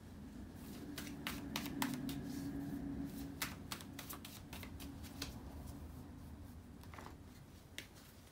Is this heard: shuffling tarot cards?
yes